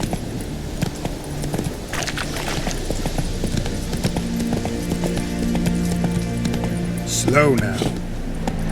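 Roach, a horse in The Witcher 3, clip-clops at a steady gait with rhythmic hoofbeats beneath game music, someone speaks briefly, and a whinny rises near the end.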